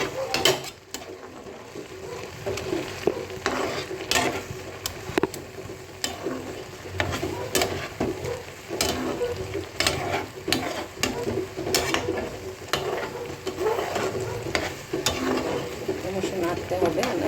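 Carrot halwa is stirred in a pan, a spoon scraping and clicking against the metal in a continuous rhythm over a low sizzle, close by, with faint talk now and then.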